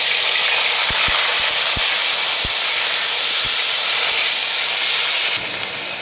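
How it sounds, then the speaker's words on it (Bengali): Onion paste dropped into hot oil with whole spices for a tangra fish curry sets off a loud, close, continuous hissing sizzle, punctuated by a few sharp pops, easing slightly at the very end. "এবার পেঁয়াজ বাটা দিচ্ছি"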